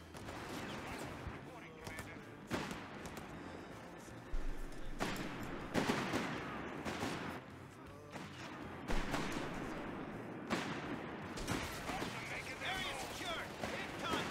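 Wehrmacht MG machine gun in Company of Heroes 3 firing bursts amid a busy battlefield mix, with sharp repeated impacts and explosions layered over constant combat noise and a talking voice.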